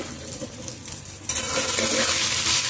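Spices stirred with a spoon in a kadhai of hot oil: a low sizzle with scraping, then a sudden louder surge of hissing frying as more goes in, close up.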